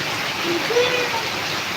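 Heavy monsoon rain in Karnataka, a steady diffuse hiss of rainfall, fairly soft and even, with faint tonal sounds drifting over it.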